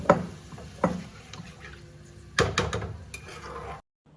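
A spoon scrapes and knocks against a pan while fish curry with spices and yogurt is stirred, a few sharp clattering strikes with soft sizzling between them.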